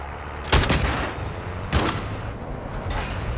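Gunfire in a shooter video game: two sharp, loud bursts of shots about a second apart against a steady noisy background, with no talking.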